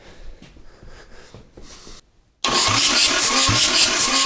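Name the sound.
Yanmar 4TNE98 engine being cranked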